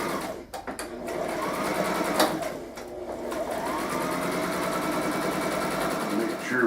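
A sewing machine stitches the last border onto a quilt with a steady, loud, close mechanical whir, briefly stuttering at the start and then running continuously.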